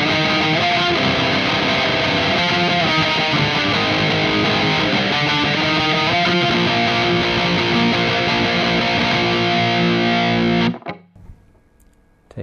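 An electric guitar played through a Catalinbread Tribute overdrive pedal, giving thick, distorted chords and riffs that ring steadily for about ten seconds before cutting off abruptly into a faint tail.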